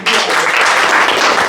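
An audience applauds the chief guest at a lecture with a dense, loud wash of many hands clapping that keeps up steadily without pause.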